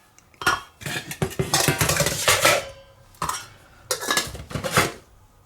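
A 1.3 litre metal pot scraped and clanked as it is fitted into a sooty wood gas stove, with a run of close, bright metallic rattles and knocks in two bursts.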